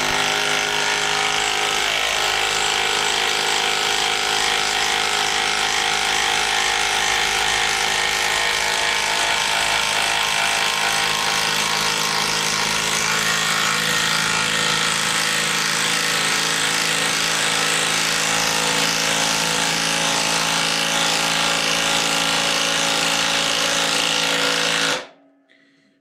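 A Greenworks impact driver drives in a bolt with a loud, continuous rapid hammering buzz. It holds steady for about 25 seconds before cutting off abruptly.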